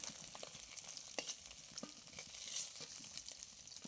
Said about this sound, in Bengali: কই মাছটা আমি খুব বেশি কড়া করে ভাজবো না